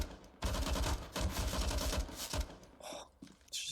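Gunfire in a Counter-Strike match on the Overpass map, several sharp bursts of rapid shots packed into a few seconds, loud and close.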